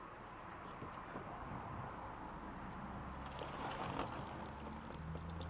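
Rainwater pouring and dripping out from under the raised trunk lid of a Dodge Avenger after heavy rain, a steady broadband wet trickle running without pause, close by, with no voices.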